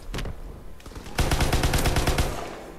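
Rapid automatic gunfire in Call of Duty WWII: a couple of quick shots, a brief lull, then a loud sustained burst of evenly spaced rounds firing close up with no talking.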